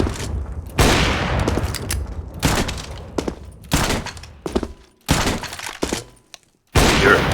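Bursts of M4 rifle fire in a first-person shooter match, several loud rapid volleys with short gaps between them, sharp and close, with no talking.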